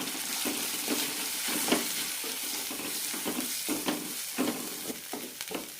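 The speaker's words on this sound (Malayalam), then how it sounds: "മസാല നന്നായി റോസ്റ്റായി കിട്ടണം" Kashmiri chilli, coriander and turmeric powder masala roasting in a pan for a potato kurma, with a steady sizzle broken by repeated scraping stirs, close and alone.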